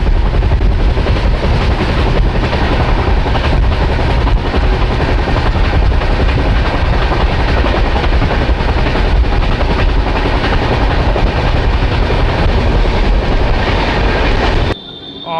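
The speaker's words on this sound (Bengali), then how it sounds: "কিউল থেকে ছাড়ার পর ট্রেন বেশ ভালো গতিতে ছুটে চলেছে।" The New Delhi–Malda Town Express runs at speed after leaving Kiul, a loud steady rumble of wheels and carriage noise heard from inside the train, continuous throughout and cutting off abruptly at the end.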